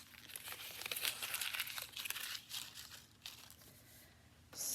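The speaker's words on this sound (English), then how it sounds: "Let me get rid of these scrap pieces of paper out of my way." Scrap pieces of paper crumpled and crinkled by hand during a paper-craft art lesson, a steady rustling crunch that continues for several seconds, close but fairly soft, with a sharper rustle at the very end.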